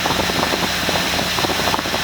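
A Yamaha F30 or ETEC 30hp outboard motor runs steadily at low throttle on a boat, a continuous engine drone with a slightly uneven rumble and no talk over it.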